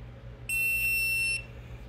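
A hidden camera detector, just switched on, gives a single sharp high-pitched electronic beep lasting about a second, close and loud over a low background hum.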